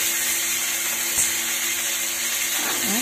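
Green chillies, cashews and garlic fry in hot oil with a steady, close hiss and crackle that holds evenly throughout, with no talking.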